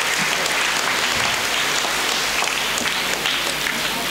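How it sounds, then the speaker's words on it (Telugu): A church congregation at a Holy Thursday mass claps loudly and steadily, a dense, even wash of many hands that fills the whole stretch without pause. "ఒకసారి గట్టిగా చప్పట్లు కొడదాం."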